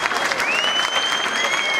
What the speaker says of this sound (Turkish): Yürekten bir alkış daha istiyorum sizlerden.